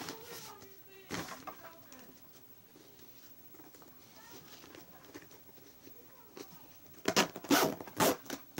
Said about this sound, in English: I think I need a new cloth bag because the zipper's not working very good.